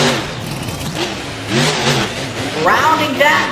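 Monster truck engines rev hard and surge off the line at the start of an Apex Tour race in New Orleans, a rising roar with gear-like pitch sweeps, heard under an announcer talking.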